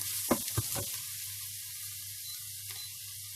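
Meat sizzles steadily in a hot pan, with a few louder scraping bursts from stirring near the start, then the frying hiss carries on alone.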